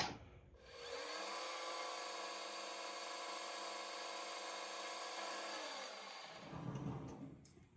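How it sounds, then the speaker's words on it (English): A metal lathe parts off a threaded brass part for a hit-and-miss engine fuel mixer valve, giving a steady, loud tonal whine with a cutting rasp for about five seconds before it stops abruptly. "I'm just going to part that off"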